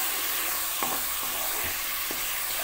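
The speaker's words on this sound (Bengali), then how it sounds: "রসুন যে পেস্টটা করে রেখেছিলাম এটা দিয়ে দেব পেঁয়াজের সাথে, পেঁয়াজের সাথে এটাও ভালো ভাজা হয়ে যাবে" Garlic paste sizzling as it fries with onions in a pan for a potato curry, a steady broadband hiss filling the clip with a few brief stirring scrapes and clicks, close and alone with no talk.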